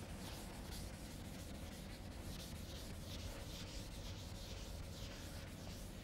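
Writing being rubbed off a board, a faint steady scrubbing that continues without a break.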